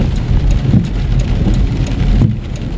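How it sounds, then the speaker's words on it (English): Dense, steady rain from a storm pours down with a constant broadband hiss, a low rumble running underneath throughout. "We've had storms like this and rain like this since Monday."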